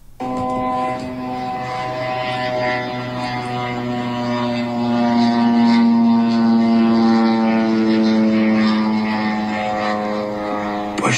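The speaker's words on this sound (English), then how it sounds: "This is a Russian Shahed drone launched from Belarus that went off course, probably deliberately," A Russian Shahed drone flying over Lithuania, its engine a steady, loud droning buzz with strong tonal harmonics that holds for about eleven seconds without a break.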